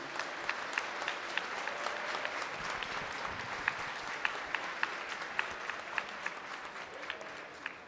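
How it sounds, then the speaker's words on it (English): Sustained, moderately distant applause from a plenary session audience for a board of directors, a dense even wash of clapping with a few sharper claps standing out, continuing steadily without speech. "So if you could give a loud applause to my Board of Directors for both organizations"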